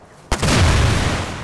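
An explosion blows up a player in the survival game Rust: a sharp, loud blast strikes after a short quiet lead-in, then a dense, sustained rumble and debris roar that holds steady until the end.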